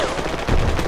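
A PKM machine gun fires in the Project Reality video game during a battle at Sbeneh Outskirts, a short loud burst of dense gunfire that thickens into a heavier, booming close volley.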